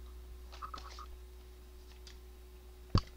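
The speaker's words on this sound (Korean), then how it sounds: "책상 바닥을 보고 다시 키보드를 내려." A computer keyboard is lifted and set back down on a desk indoors: faint scattered ticks and rustles, then one short, sharp thud near the end in a quiet room.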